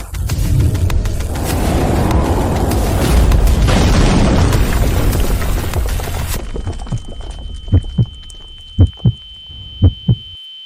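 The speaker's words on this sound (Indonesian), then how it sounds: "Meledakkan tembok dari kejauhan." A wall blown apart in a dramatic explosion effect: a loud, sustained roaring blast rumbles for several seconds, then thins out into a series of deep, isolated booming thumps.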